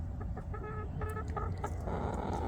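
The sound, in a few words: Cochin chicken vocalizing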